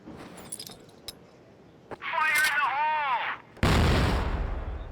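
A grenade blast in the shooter CrossFire, heard during a KINGZERO vs Twisted Minds esports match, bursts loudly and broadband near the end after a rising whine and scattered clicks, then rumbles and decays.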